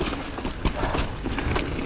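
Hooves clip-clop in a quick, steady rhythm against constant outdoor rumble, close by.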